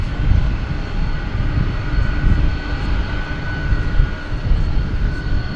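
American Airlines Airbus A321 on Flight 1797 to Las Vegas at DFW Airport at night, a steady, fairly loud jet engine roar with a sustained whine, heard alone without talk.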